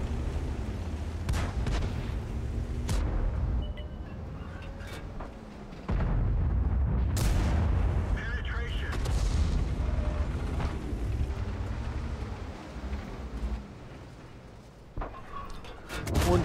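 Tank cannon shots and shell impacts in the World of Tanks game, T32 tank: several deep booming blasts at irregular intervals over a low rumbling battlefield background, with someone commentating in German throughout.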